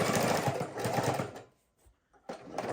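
A sewing machine stitching a junk journal pocket, with a steady close mechanical whir that stops briefly and then starts again.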